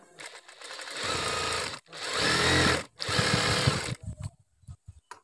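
A sewing machine stitches baby boy half pants in three loud, rapid bursts separated by short pauses, followed by a few faint clicks.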